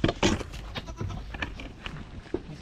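Goats bleating on a farm, several short wavering calls close by in quick succession, mixed with rustling and movement noise.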